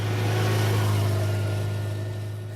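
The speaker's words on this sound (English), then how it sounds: "It's got a pretty neat sound with that pipe on it when you accelerate" A Yamaha FZ8 motorcycle with an aftermarket exhaust accelerates: a steady engine drone with a low, throaty exhaust hum that holds fairly constant and fades slightly at the end, heard up close.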